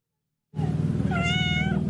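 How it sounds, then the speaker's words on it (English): A cat at an animal rescue shelter gives one clear, drawn-out meow close by, rising then falling, over a steady low background hum after a brief silence. "Biscuit is one of just over 60 cats currently on site at Saving Animals Lives Together, or SALT."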